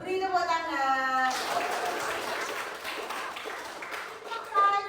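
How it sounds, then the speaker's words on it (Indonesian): Children in a classroom clapping their hands during a Simon Says game, a brief burst of quick claps following an adult's voice, with talk resuming at the end. "beri tepuk tangan"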